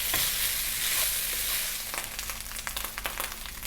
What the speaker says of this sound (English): That's your rice frying, that's where you need it to be.